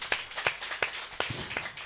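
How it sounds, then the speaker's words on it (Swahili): Congregation at a church service clapping hands for Jesus in a steady rhythm of about five distinct claps, moderately close. "Si upigie Bwana Yesu makofi yaliyo hai"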